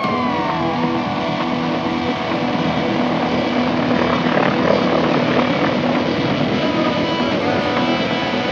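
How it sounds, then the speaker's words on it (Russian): Mi-28N Night Hunter attack helicopter flying close by, a loud, continuous rotor and turbine roar with steady whine, filling the whole stretch without pause. "на базе вертолета Ми-28 была создана его модификация Ми-28Н – «Ночной охотник»"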